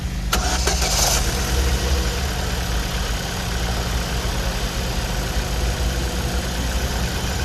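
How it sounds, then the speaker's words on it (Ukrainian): An Opel Zafira B or Skoda Octavia engine cold start: it cranks and catches right away, then settles into a steady, loud idle rumble that continues throughout. "машина холодна, холодний пуск, запуск"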